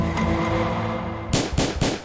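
Gunshot sound effects in a rap track play loud over a heavy beat, with a few sharp bursts cracking in quick succession near the end.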